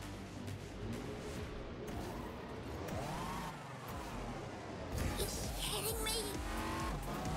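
Karts race and drift in the video game Disney Speedstorm, a steady engine drone with tire squeal rising through the middle and a brighter skid near the end, fairly quiet and without talk.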